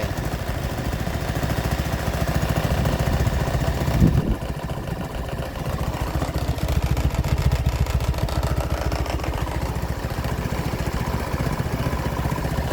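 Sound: engine started and running after cleaning

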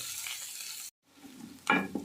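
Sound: frying onions in a pan with chicken powder added

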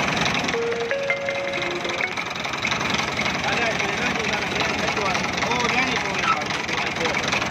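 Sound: Ford 4000 tractor engine idling

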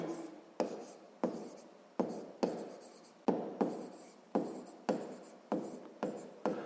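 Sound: writing

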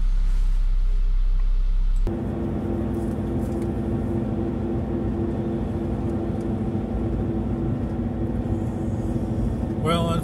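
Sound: Blizzak snow tires roaring on dry pavement during road test

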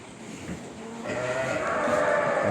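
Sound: Kangal lambs bleating

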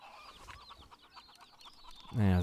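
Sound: chickens clucking in video game Pure Farming 2018

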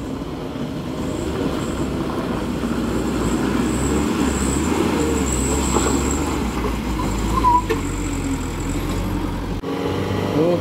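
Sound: diesel truck engine while being towed uphill

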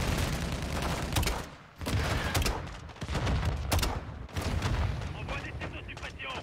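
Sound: suppressive gunfire in Modern Warfare 2 video game

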